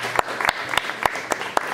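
Scattered claps from an audience at a student information session, a handful of sharp hand claps spaced out over a couple of seconds, fairly close, with low room murmur behind.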